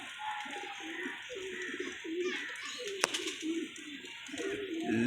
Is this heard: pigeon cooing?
yes